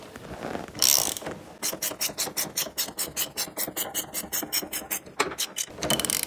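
A screw on the shift lever mount of a BMW R 1150 motorcycle being turned with a ratchet, giving a steady run of close, even clicks after a short scrape, pausing briefly before resuming.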